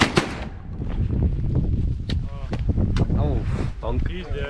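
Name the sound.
shotgun gunshot while duck and goose hunting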